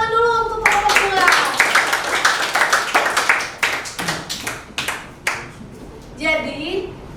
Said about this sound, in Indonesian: Ayo kita tepuk tangan dulu untuk kelompok 2.